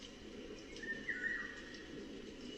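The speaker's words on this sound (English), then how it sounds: "If you want some rain sounds, but not only that, you can mix in some birds." A white noise sleep machine plays a bird song layer over a steady hiss of rain, with a few faint chirps and one clearer whistled call near the middle.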